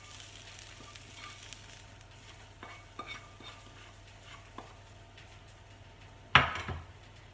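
Onions fry quietly in a pan under a low, steady sizzle, with a few light taps of a utensil and one sharp scrape or clatter near the end.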